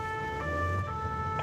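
Emergency vehicle siren wailing steadily through Paris traffic, a sustained two-tone warble held close and loud over the rumble of surrounding road noise.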